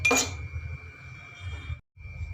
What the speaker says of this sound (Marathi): आता इथे काचेचे ग्लास घेतलेले आहे आता त्यामध्ये दोन दोन बर्फ टाकते